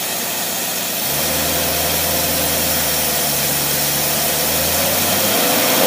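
Studebaker engine with a carburetor idling steadily on a dynamometer with no load applied, the transmission turning; a continuous low rumble with a faint mechanical hum that holds nearly constant.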